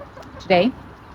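A pet hen pacing along a backyard fence line lets out a single loud, brief squawking cluck, close and sharp against a quiet background.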